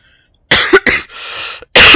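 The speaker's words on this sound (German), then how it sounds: "Entschuldigung fürs Husten" Several harsh coughs from a man who is still a bit ill, bursts close to the microphone, with a gap and then a final loud cough.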